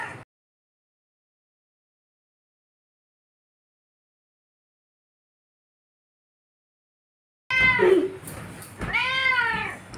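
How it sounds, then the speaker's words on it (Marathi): A house cat gives two clear, close meows in quick succession after a long stretch of silence. "आणि ही जी मांजर ही मांसाळलेली मांजर आहे"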